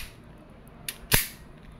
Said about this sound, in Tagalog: Test natin yung Glock 27, yung stock.